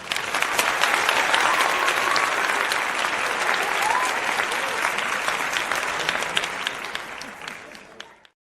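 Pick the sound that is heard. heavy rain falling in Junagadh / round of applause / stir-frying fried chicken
round of applause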